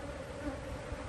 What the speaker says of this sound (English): Now these bees are really not happy with me.